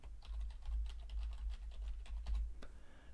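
Rapid clicks of a computer keyboard as a password is entered during Fedora setup, close and clear, in quick irregular bursts with a brief pause near the end.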